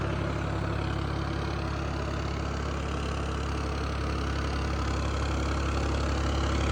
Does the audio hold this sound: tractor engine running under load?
yes